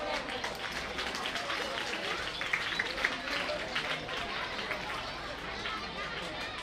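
Audience applause at a school honouring ceremony, where the principal receives a shawl: steady, dense clapping mixed with crowd chatter, sustained at an even level throughout.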